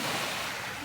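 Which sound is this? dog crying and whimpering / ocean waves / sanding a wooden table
ocean waves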